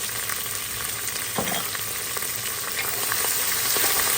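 Onions frying in hot oil for chicken biryani give a steady, close, dense sizzle with faint stirring scrapes throughout, with no voices.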